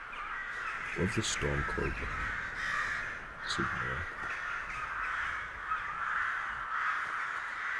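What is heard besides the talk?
crows cawing in Skyrim video game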